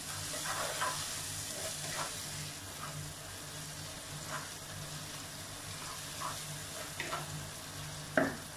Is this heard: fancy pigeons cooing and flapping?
no